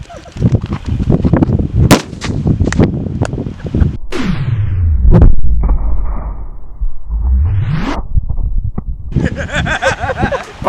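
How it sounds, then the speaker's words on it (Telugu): A firecracker bomb goes off beneath a pile of lemons outdoors, giving one loud, sharp close blast after a hissing fuse, followed by rushing, whooshing bursts and scattered crackles. "నిమ్మకాయలన్నీ వంకాయ బాంబు మీద పెట్టేశాము"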